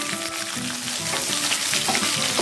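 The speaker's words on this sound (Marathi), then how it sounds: "आणि काजूचे तुकडे घालणार आहे थोडेसे। हे छान परतून घेऊन मी कांदा घालून घेणार आहे।" Cashew pieces and a few black peppercorns fry in a kadhai for soybean pulao, giving a steady, close sizzle that holds evenly throughout with no voices.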